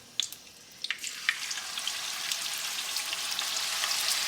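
Cusk fish sizzles and crackles in hot oil, a few sharp pops at first, then a steady, building hiss of frying.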